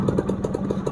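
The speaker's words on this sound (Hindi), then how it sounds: "आप इसकी आवाज़ देख सकते हैं कि बिल्कुल नया मोटरसाइकिल की तरह हो गई है।" A freshly rebuilt Yamaha motorcycle engine idling after a kick start on a cold day, a loud close steady putter with regular thumping pulses.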